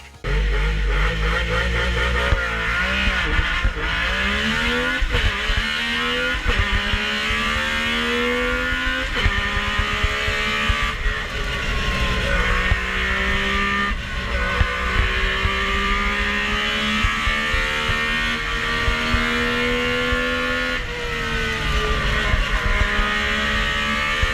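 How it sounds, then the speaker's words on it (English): A rally car driving a stage, heard from onboard: a loud, raw engine screaming continuously through repeated gear changes, rising and falling in pitch as the car accelerates and shifts, with no talking. "I'm just going to show like a little 15-second clip of how raw and unedited these cars are"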